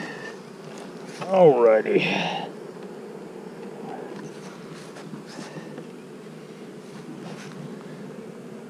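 Honey bees buzz around an open hive box in a continuous, moderately loud drone close by, with someone speaking briefly and a short burst of handling noise near the start.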